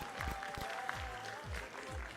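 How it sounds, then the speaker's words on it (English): Applause from an audience at an international cultural festival, moderately loud and steady for about two seconds, with low thumping hits and a faint tonal hum running underneath. "Let's give a round of applause for Arab booth,"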